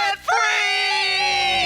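A couple screaming in celebration at a live debt-free countdown, a loud sustained joint yell that bursts in after a brief pause and holds steady to the end.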